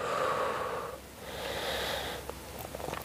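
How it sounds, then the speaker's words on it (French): A slow inhale and a longer exhale of breath drawn during a stretching exercise, one breathy cycle close to the mic with no talking. "Et inspire et expire."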